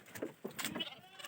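Goats bleating at a rural hillside home, a few short, wavering bleats in quick succession, faint and somewhat distant against quiet background noise.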